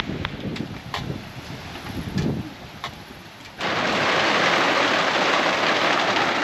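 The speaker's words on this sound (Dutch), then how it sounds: "Nou zitten we in de camper en nou valt de regen." Wind and rain batter a camper van, first as gusty buffeting with scattered drops hitting the shell, then as a sudden loud, steady downpour that takes over for the rest.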